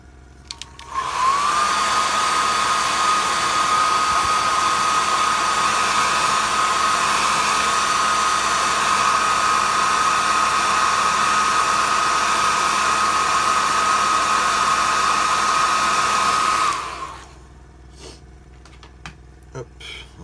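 A hair dryer blows steadily at close range for about sixteen seconds, drying paint on a sardine-pattern fishing lure, then clicks off, leaving quiet room noise.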